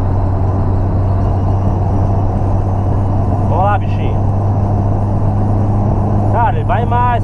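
Square-body VW Gol engine revving hard during a carburetor test on a highway, a steady droning engine held at high revs in the cabin with constant road rumble and a voice talking over it.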